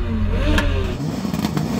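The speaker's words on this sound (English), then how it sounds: "Now I want to hear the 306, which used to be driven by a very famous rallycross driver, Ollie O'Donovan." A Peugeot 306 rallycross car revs loudly nearby, its engine rising and falling in hard bursts with a clattering edge and no talk over it.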